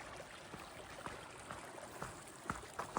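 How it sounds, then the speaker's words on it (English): A pretty mountain creek in a valley along the Continental Divide Trail flows in a steady, soft, close rush of water, with small splashes and trickles breaking through here and there. "It's a pretty creek."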